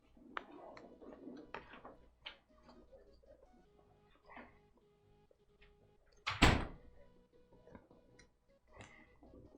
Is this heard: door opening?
yes